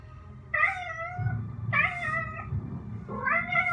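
A cat meows three times in drawn-out, whining calls, evenly spaced, over a low background rumble, in a video game.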